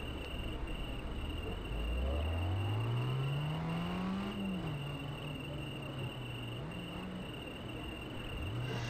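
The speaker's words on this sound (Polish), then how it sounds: "O, silnik" A car engine in the Overspeed racing video game revs with a rising, wavering pitch over a steady high-pitched whine and constant background hiss, with no talk.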